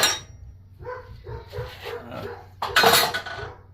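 A big dog barks at a broom in a garage workshop where a Briggs and Stratton engine is being repaired. Several loud, close barks come in a row alongside some clattering.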